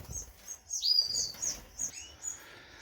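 Canaries in a breeding flight chirp and tweet in quick, high bursts, several birds calling near and far over a quiet background.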